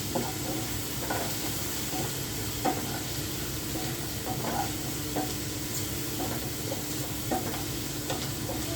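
Potatoes and carrots sauté in a pan for a carrot potato stew, with a steady close sizzle and occasional stirring scrapes throughout.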